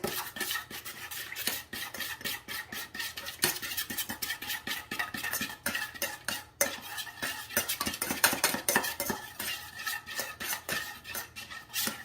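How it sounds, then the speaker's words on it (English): A spoon mixes chicken salad in a bowl, scraping and clinking in a steady, fast rhythm close up, continuous for several seconds without talk. "Let's grab a spoon here. We're gonna give this a nice mix."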